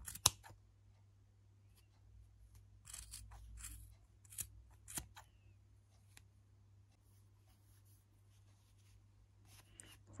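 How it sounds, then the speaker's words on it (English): Soft, brief snips of scissors cutting yarn while crocheting a ribbed beanie, a few isolated clicks and rustles scattered over a quiet room with a low hum. "Cut your yarn from the middle."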